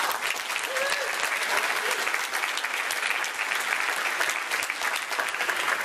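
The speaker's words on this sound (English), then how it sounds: "Applaud for that." An audience at a community mural unveiling at Crystal Pool in Victoria, BC, gives sustained, even applause from many hands, with no pauses across the whole stretch.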